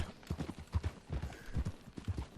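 Horse hooves trot in the RedM game, a soft, quick, uneven clip-clop heard close but at low level, with no talk over it.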